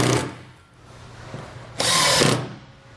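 A power drill drives fasteners into X Track trailer cargo rail, with a short whine at the start and a louder sustained burst of about half a second later, heard close up.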